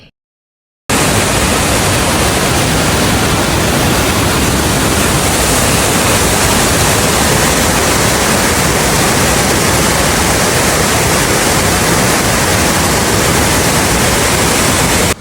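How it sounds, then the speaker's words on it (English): A waterfall pouring out of a cave at Finca Sacmoc in Alta Verapaz, Guatemala, roars as a loud, dense, continuous rush of water after a second of silence, steady and close with no pauses. "A photo can capture the waterfall, but it can give you the sound."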